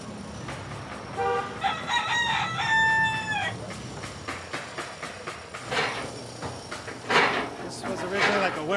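A rooster crows once at moderate distance amid a noisy outdoor background in Panama, with people talking around it.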